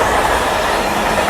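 A freight train carrying cars rolls past close by, a steady broadband rumble and rush with faint wheel squeal and clatter, continuous and loud throughout.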